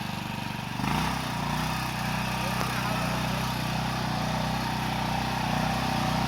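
An engine-driven jungle-clearing machine starts up after about a second and then runs at a loud, steady, close drone with little change in pitch.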